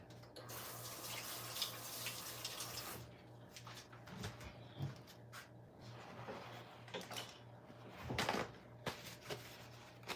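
Steady rush of running tap water at a kitchen sink while hands are washed before cooking asparagus, fairly faint and continuous, with small splashes and a few soft knocks and clatters near the end.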